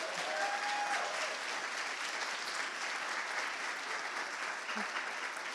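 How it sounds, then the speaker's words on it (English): A faint, even round of applause from an audience at a poetry recitation competition, steady clapping heard from a distance across the hall. "can we get one last round of applause for all the runner-ups?"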